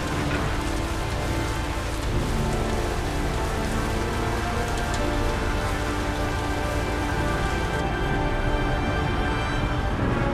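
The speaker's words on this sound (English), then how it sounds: "It's raining heavily." Heavy rain in a video game pours down continuously, a dense, loud hiss of drops pattering on surfaces with no break and no talking.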